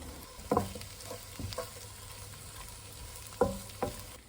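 Kimchi and fish cake stir-fried in a pan with onions, a steady low sizzle broken by a few sharp scraping knocks of the spatula against the pan, close and clear.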